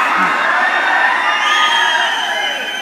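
A college audience at a comedy show cheers, whoops and shouts odd noises all at once, a loud, dense crowd roar that holds steady throughout.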